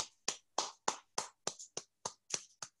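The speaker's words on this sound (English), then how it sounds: "जहां पे भी आप हो clap" A participant in an online webinar claps about ten times in a steady, fairly quick rhythm, close and isolated, each clap crisp and separate with brief silences between.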